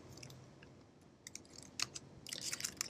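Quiet typing on a computer keyboard, sparse clicks at first that pick up into a quicker run of light keystrokes, close but faint, with no voices.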